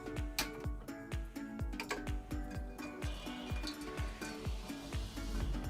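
Oil heats in a pan on a stove with a soft, steady sizzle, punctuated by a regular series of sharp ticking clicks throughout, fairly quiet.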